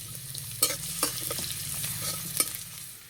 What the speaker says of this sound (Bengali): কড়াই দেব সাদা তেল, গোটা জিরে, শুকনো লঙ্কা, দেব কোচানো রসুন